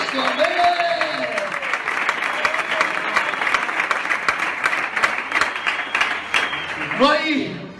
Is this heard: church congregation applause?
yes